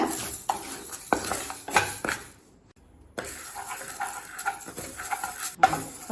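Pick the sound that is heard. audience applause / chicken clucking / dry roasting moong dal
dry roasting moong dal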